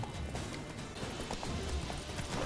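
Rapid hoofbeats of a running horse, steady and fairly quiet, amid busy background noise in The Witcher 3: Wild Hunt.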